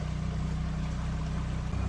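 A canal narrowboat engine cruising the Lancaster Canal on a hot day runs in a steady, low, throbbing putter, close and continuous, with no voices.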